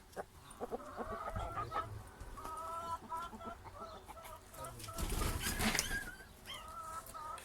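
A rooster clucks and crows repeatedly in a busy farmyard, with other fowl calling around it and some low rustling in the background.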